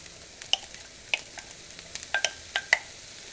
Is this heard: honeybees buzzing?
no